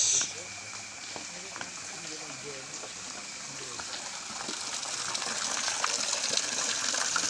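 Clean water runs steadily at a bathing place with separate areas for men and women, a soft gushing flow that grows gradually louder over the span, with a faint background and no clear talk.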